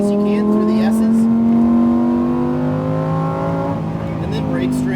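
A Lamborghini Huracan STO engine pulls hard on a racetrack, its steady rising harmonic tone climbing as the car accelerates, loud and close throughout with a brief wobble near a gear change.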